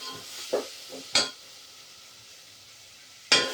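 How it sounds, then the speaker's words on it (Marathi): Masala spices roasting in a pan for a spicy mutton curry, with a few short scraping stirs and clinks over a soft, steady sizzle, followed by a quiet stretch and one last sharp scrape. "हा मसाला भाजत आलाय"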